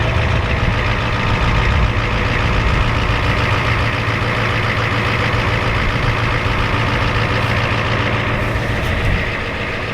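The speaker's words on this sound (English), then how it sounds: "Warm her up. That's good for them diesels." A diesel farm tractor engine idles while warming up, its steady, knocking rumble close and loud throughout. The idle settles slightly quieter in the final seconds.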